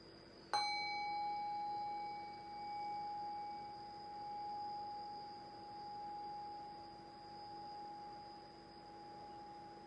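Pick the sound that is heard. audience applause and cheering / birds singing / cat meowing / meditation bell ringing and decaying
meditation bell ringing and decaying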